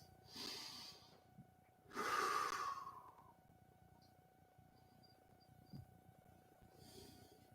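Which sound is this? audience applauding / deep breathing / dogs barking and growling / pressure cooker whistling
deep breathing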